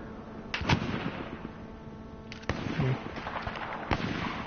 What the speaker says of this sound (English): Someone's trying to shoot someone over here.